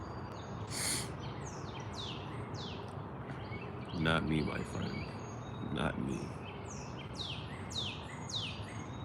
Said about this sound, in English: You gotta hear the birds.